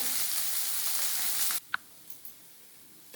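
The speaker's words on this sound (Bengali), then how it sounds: "অল্প একটু লঙ্কার গুঁড়ো দিয়ে দেবো, একটু ঝাল ঝাল হলে খেতে ভালো লাগে, সেই জন্য একটু লঙ্কা দিয়ে দিচ্ছি। দিয়ে আমি বেশ কিছুক্ষণ ভাজবো।" Lote fish fries with chili powder in a pan, a close, dense hiss for about a second and a half that cuts off abruptly. A few faint clicks follow in near silence.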